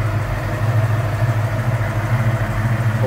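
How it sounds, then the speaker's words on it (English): A 1989 Ford Mustang GT convertible's 5-liter V8 with a cold air intake idles smoothly and steadily close by, its low rumble continuous and even, with no voices present. "See, it's a nice, smooth, good sounding engine."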